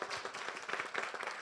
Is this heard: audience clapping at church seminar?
yes